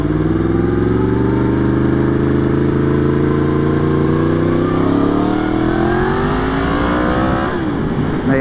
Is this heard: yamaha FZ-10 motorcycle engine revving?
yes